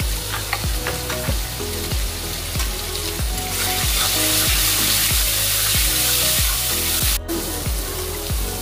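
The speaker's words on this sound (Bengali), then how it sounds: "দিয়ে মশলাটাকে আবার ভালো করে কষাবো।" Ground spice masala with cumin and coriander powder sizzles loudly in a hot pan, steady frying hiss with a regular rhythm of stirring scrapes throughout.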